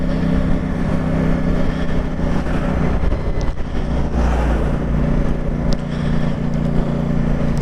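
A CF Moto 450 SR-S sports motorcycle ridden slowly, its engine humming steadily under rushing wind noise, near and fairly loud, with no speech.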